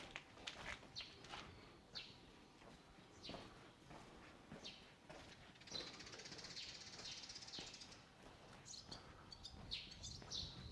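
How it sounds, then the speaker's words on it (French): Small birds and swallows chirping in Kanazawa, Japan, with scattered high tweets and calls over a steady outdoor background and occasional footstep-like thumps, moderately distant. "Il y a plein de petits oiseaux et de petites hirondelles."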